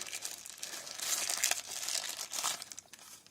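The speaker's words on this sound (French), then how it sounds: "je ne l'ai pas ouvert, je vais vous le déballer" Plastic and paper packaging crinkles and rustles close up as a UMI phone charger is unboxed, in irregular bursts of crackling and tearing, and nobody speaks.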